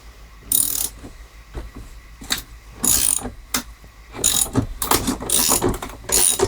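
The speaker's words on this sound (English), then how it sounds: "All right, 3/4 socket. Let's start cranking this off." A ratchet with a 3/4 socket cranks on a Tecumseh engine, giving loud close bursts of rapid clicking in repeated strokes separated by short pauses.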